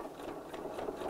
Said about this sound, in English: and then we'll sew